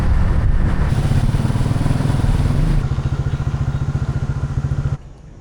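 A motorcycle on the road back to Hanoi, its engine running loud and close with a steady throb that drops to a pulsing idle before cutting off near the end.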